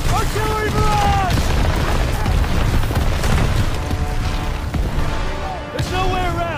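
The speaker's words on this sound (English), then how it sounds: "Artillery barrage!" Artillery barrage explosions in Call of Duty WW2 gameplay, heavy continuous booming and rumbling that stays loud throughout while soldiers shout over it.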